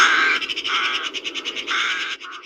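Crows cawing in a rapid run of repeated harsh calls, close and fairly loud, with no talk over them.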